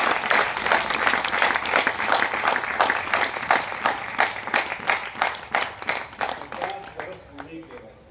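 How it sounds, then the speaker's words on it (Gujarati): An audience applauding to welcome gurus at a gathering, dense sustained clapping from many hands that thins and fades toward the end, with voices audible beneath it. "બધા ગુરુઓને તાળીઓથી આપણે બોલાવવા"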